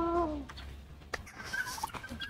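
A turkey gobbles once at the start, a loud warbling call, followed by scattered softer bird calls and rustling nearby.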